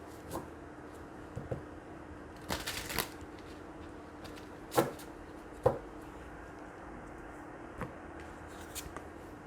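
Tarot cards being shuffled to draw an advice card from a herbal deck, a quiet room with scattered brief riffles and soft slaps, a few sharper bursts standing out from near silence.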